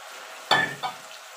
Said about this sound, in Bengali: ধনে পাতাটা দিয়ে ভালো করে নাড়াচাড়া করে নেব